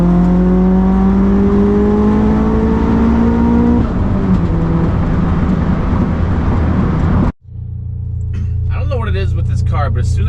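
A car engine hums and revs steadily with rising tones, then cuts off abruptly and gives way to a lower, steady interior rumble with faint voices.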